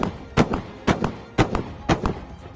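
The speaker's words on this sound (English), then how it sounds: "this is demonstration of shots of Mk-44 Bushmaster 2 automatic cannon in 30mm caliber, on Dragoon Striker armored personnel carriers" A Mk-44 Bushmaster II 30mm automatic cannon on a Dragoon Striker armored personnel carrier fires four evenly spaced heavy thudding shots, each with a short trailing rumble, heard from a distance.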